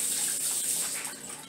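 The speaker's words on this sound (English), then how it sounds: "I'm going to wash these real well." Tap water runs steadily over mulberry leaves being washed in a sink, a close, continuous hissing splash with slight shifts as the leaves are moved.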